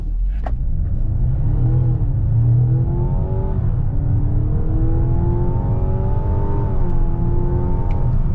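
A 2024 Mazda CX-90 plug-in hybrid with a turbocharged engine pulls hard from a standstill to 60 mph. Its steady engine drone climbs in pitch through two clear gear shifts, loud and close, with no voices over it.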